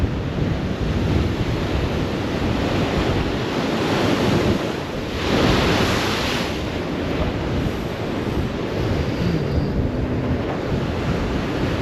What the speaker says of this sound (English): Got some big ass waves coming in now. Really big waves.